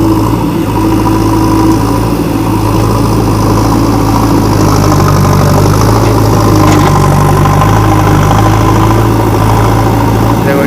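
A JCB 3DX Xtra backhoe loader's diesel engine runs loud and close, with a steady heavy low rumble and slight rises as it works through a gear change. Voices are faintly present.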